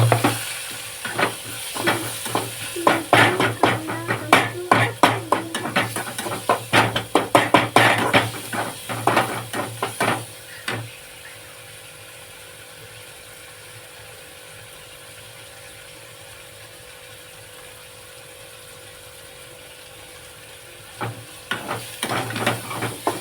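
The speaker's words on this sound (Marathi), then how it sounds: "आता आपण टाकूया ह्याच्यात टोमॅटो." Chopped tomatoes tossed into onions browning in a hot pan, sizzling and clattering loudly with busy stirring scrapes for about ten seconds, then a long quieter stretch of low steady frying before stirring resumes near the end.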